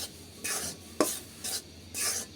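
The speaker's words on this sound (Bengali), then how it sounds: "আটা এখানে হালকা শুকনো খোলায় চুলার আঁচ কমিয়ে ভেজে নিতেছি" Dry scraping and stirring as flour dry-roasts in a pan over low heat, several rasping strokes spaced about half a second apart with a faint steady background hiss.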